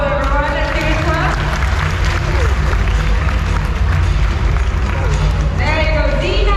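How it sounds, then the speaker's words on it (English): Crowd applause at a bird show at Bird Paradise in Singapore, continuous dense clapping with crowd hubbub and brief bird-like whistles, loud and close throughout. "For a round of applause,"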